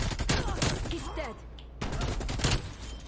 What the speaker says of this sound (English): the rate of fire on the RPD is much slower than the other one we just tried